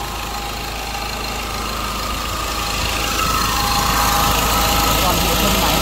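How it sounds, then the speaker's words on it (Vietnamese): A 2013 Ford Ranger Wildtrak with the 2.2 engine and automatic gearbox idles steadily at close range, a constant low rumble that swells slightly louder in the second half, with no voices over it. "tiếng máy đang lổ anh em có thể nghe thấy không ạ"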